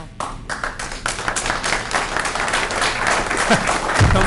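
Audience at a town meeting bursts into steady applause, dense clapping that builds and holds close and loud throughout.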